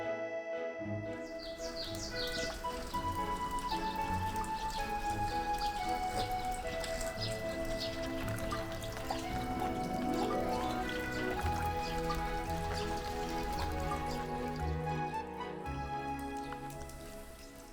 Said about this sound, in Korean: 비가 촉촉하게 내리는 오후.